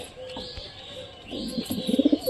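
Pigeon sitting on its eggs, giving soft, throaty coos that build into a rhythmic series of pulses near the end, close by with faint background noise.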